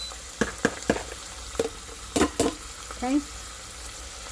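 A cup of onions sautés in an Instant Pot with a quiet, steady sizzle under several sharp spoon clicks against the pot. A voice speaks briefly near the end.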